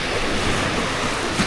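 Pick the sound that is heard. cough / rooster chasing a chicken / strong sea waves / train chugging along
strong sea waves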